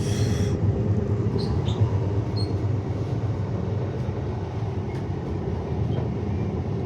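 A Cleveland Line train in Brisbane rumbles steadily over a stretch of bushland, a continuous low mechanical roar with a faint high whine fading early, no voices.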